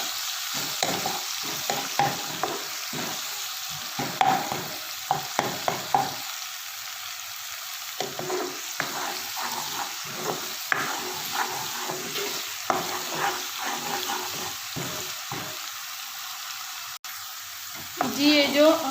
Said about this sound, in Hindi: और 1 चम्मच डालते हैं लहसुन का पेस्ट। इसको हम अच्छी तरह सौटे करते हैं।